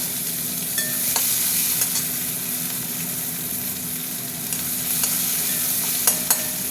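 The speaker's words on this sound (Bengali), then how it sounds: "পেঁয়াজটা একটু ভাজা ভাজা হয়ে আসুক" Onions frying with dried red chillies and bay leaves in a pan, a steady close crackling sizzle with occasional sharp pops and stirring scrapes, no voices.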